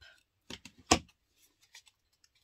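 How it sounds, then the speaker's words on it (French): Scissors cut the corners of paper for a scrapbook notebook, making a handful of short, crisp snips close by with brief pauses between them, and no voices. "Je découpe les angles."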